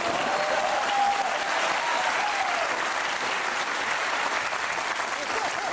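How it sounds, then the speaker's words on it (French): Sustained applause from a studio audience on a French talk show as the final guest is introduced, a dense steady wash of clapping at even loudness throughout, with no voices over it. "On peut l'applaudir bien fort, lui, par contre."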